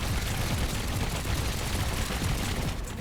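Rapid-fire cannon shooting in the Trailmakers video game: a dense, continuous barrage of loud, overlapping blasts with no gaps, sustained for the whole stretch.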